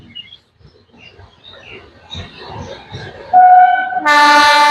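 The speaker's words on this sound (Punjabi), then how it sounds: "ਜਗਰਾਉਂ ਤੋਂ ਸਾਡੀ ਟ੍ਰੇਨ ਜਿਹੜੀ ਹੈ ਰਵਾਨਾ ਹੋ ਰਹੀ ਹੈ ਜੀ" A Firozpur–New Delhi intercity passenger train's horn blares loudly in two long tones near the end as it departs Jagraon station, following quieter rumbling and faint voices.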